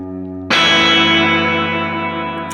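A Keeley Caverns V2 delay/reverb pedal set to spring reverb emulation with the decay turned up: a struck guitar chord bursts in loudly after a quiet hum, then rings out in a long, dense, slowly fading wash of reverb.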